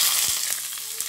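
Mustard seeds, urad dal, hing, dried red chillies and curry leaves sizzling in hot oil in a kadai for a tempering, with a steady bright hiss and a few soft crackles.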